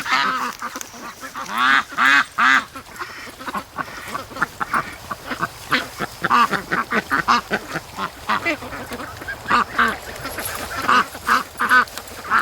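Ducks quack near a lake in a steady, busy run of loud, close calls that overlap and repeat for the whole stretch, with no voices.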